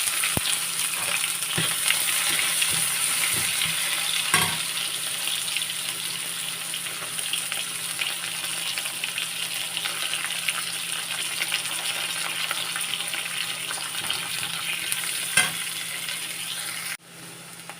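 Onions frying in hot oil with popped mustard seeds and fenugreek for kaara kuzhambu, a loud, sustained crackling sizzle close by with occasional sharp clinks of a spoon against the pan.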